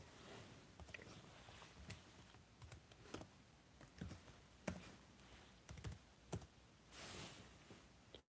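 Fingers type on a laptop keyboard outdoors, a faint, irregular run of light key clicks and taps with short pauses between bursts.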